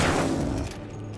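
Gunfire from the PC game Alan Wake, a dense volley of loud shots and booms that fades slightly toward the end.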